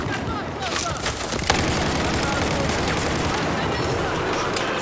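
Gunfire from the Battlefield 4 video game rattles in dense, continuous bursts with booming impacts, loud and busy throughout.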